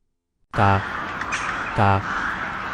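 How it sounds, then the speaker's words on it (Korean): A crow caws loudly and harshly twice while circling overhead, each call standing out over a steady, dense background. "까마귀가 스님의 머리를 맴돌면서 계속해서 울어댔다"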